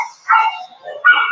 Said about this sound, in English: Your dogs are noisy.